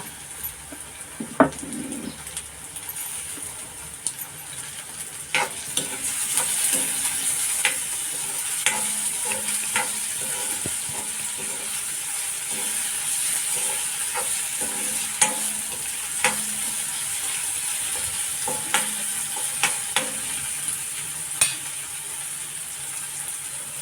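Onion and tomato frying in a pan for prawn masala gravy, with a steady close sizzle and repeated stirring scrapes and clicks of a spoon continuing throughout, no voices.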